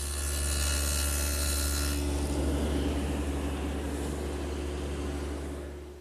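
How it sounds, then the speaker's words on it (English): A table saw fitted with a stacked dado cutter cuts a dado for a plywood bottom, a loud steady motor hum with a rough rasping cut that trails off as the blade clears the wood. "To make the dado, I've set up the stack cutter for the width of the plywood bottom"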